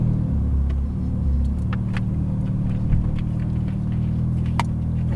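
A Ferrari 488 GTB pulls out and drives off, its engine a steady low rumble throughout with no sharp revving, heard fairly close and unbroken.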